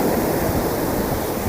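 Steady, close wash of surf breaking on a white sand beach on Taliabu Island, a dense continuous roar with no voices over it.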